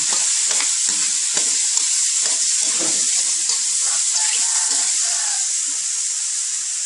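Oyster mushrooms stir-fry in a pan, giving a bright, constant hiss of sizzling oil throughout, broken by irregular soft scrapes and clatters of stirring close by.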